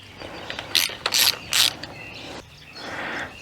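A T25 Torx driver turns a worn handguard bolt on a Triumph Tiger 900 motorcycle, giving three quick close ratcheting clicks and then quieter scraping.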